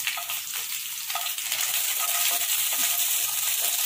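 Garlic and peanuts roast in a pan for street-style vada pav, giving a continuous close hiss and sizzle with occasional light ticks, no voices.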